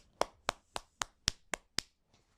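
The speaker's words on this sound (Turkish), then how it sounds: "Buradan bir alkış alıyoruz." Seven sharp, evenly spaced hand claps close by, quiet overall, each crisp and separate, with a faint eighth tap trailing at the end.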